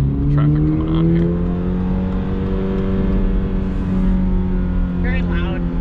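A 2022 Toyota GR86 engine drones loudly from inside the cabin while driving, a steady low tonal hum with shifting pitch, as people talk over it.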